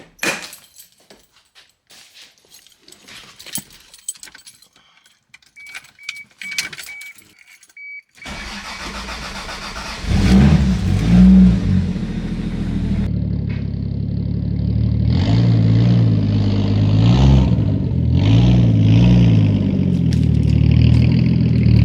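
A factory Toyota 7M Supra turbo with an upgraded CT26 turbocharger, driven after a tune. Quiet interior noises come first, then the engine starts up loud and close, rising and holding steady through several surges of revving.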